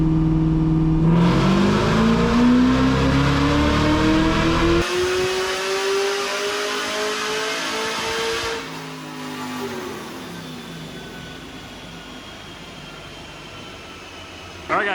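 A tuned LSA-swapped third-generation car revs hard on a dyno, the loud engine note climbing steadily in pitch through a long wide-open pull, then cutting off and settling into a roaring, rumbling wind-down.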